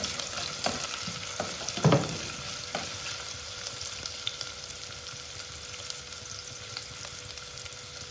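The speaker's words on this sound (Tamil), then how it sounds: "இதை நல்லா வதக்கி வச்சுக்கலாம்." Onions sizzle steadily in a hot pan, with a brief clatter of stirring near the start; no voices.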